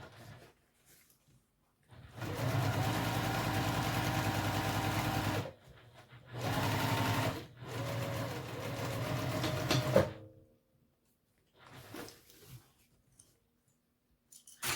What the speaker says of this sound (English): I will back stitch at the beginning and end of each line